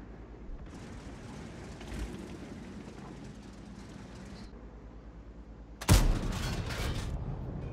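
A British tank cannon fires in World of Tanks: one sudden loud blast near six seconds, followed by a rumbling decay, after a stretch of steady engine-like rumble and battle noise.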